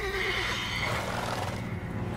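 A horse, a mare in The Witcher 3: Wild Hunt, whinnies in a long, wavering neigh over a steady background of music or ambience, fairly close and clear.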